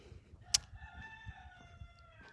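A rooster crowing in the morning quiet, one fairly distant, drawn-out call with a sharp onset, rising over soft low background rustle and thumps.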